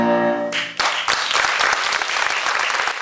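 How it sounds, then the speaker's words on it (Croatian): A theatre audience bursts into applause after a quiet tonal opening, dense clapping swelling to a full, steady ovation. "Sigurno da aplauz godi."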